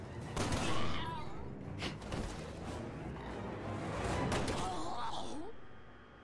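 Gunfire in Resident Evil 6, a few sharp shots and impacts cracking out over a busy, rumbling game mix while people talk.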